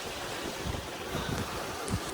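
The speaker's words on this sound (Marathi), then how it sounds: "ह्या लाटा आहेत ना लाटा बघा" Sea waves wash against the stone rampart of Sindhudurg fort: a faint, steady hiss of surf and wind with low rolling surges, no voices present.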